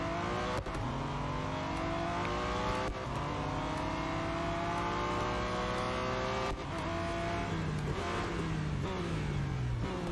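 A race car engine in the mobile racing game Real Racing 3 revs loudly and steadily for about ten seconds, its pitch repeatedly climbing and dropping sharply as gears shift, with no talk over it.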